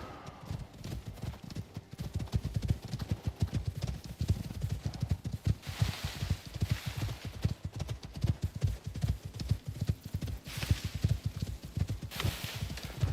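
Horse hooves clip-clop in the survival video game Icarus, a steady walking rhythm of close, fairly soft thuds repeating throughout, with faint ambient wind in the background.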